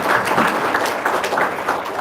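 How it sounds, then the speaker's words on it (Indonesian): An audience gives a brief, loud, dense burst of applause for a respected hajji at a religious gathering, continuous clapping throughout without a break. "Tepuk tangan untuk Pak Haji."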